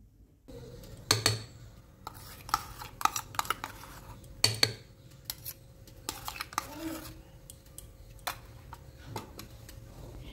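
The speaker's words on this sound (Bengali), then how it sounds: "এবার এই ফেনাটাকে ব্যাটারের সাথে খুব ভালো করে মিশিয়ে নিতে হবে।" Utensil clatter against a bowl while foam is folded into eggless semolina sponge cake batter: scattered clinks and taps, fairly close, with quieter scraping stirring in between.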